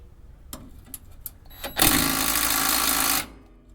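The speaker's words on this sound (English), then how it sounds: "It looks like my wrench isn't quite strong enough to break that loose, so I'm going to have to switch over to my manual" A power wrench strains against a shock absorber bolt on a Ford F-350 Super Duty truck, a few short clicks followed by a loud sustained whirring buzz of about a second and a half that then cuts off.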